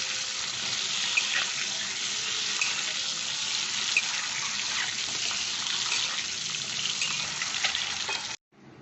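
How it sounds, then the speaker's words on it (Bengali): Boiled eggs fry in mustard oil, a loud continuous close sizzle that holds steady for several seconds, then cuts off abruptly near the end. "সিদ্ধ ডিম ভেজে দিই"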